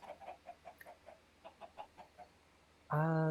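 Rhythmic, soft clucking from chickens on an automatic chicken farm in Minecraft, a regular series of short game-sound clucks at a moderate pace, cut off by a louder sustained tonal game sound at the end.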